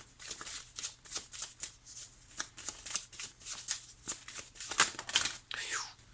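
Tarot cards being shuffled and drawn, with quick, close riffling and slapping bursts in an uneven rhythm and a faint soft voice underneath.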